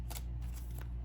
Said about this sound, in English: let's draw one of these cards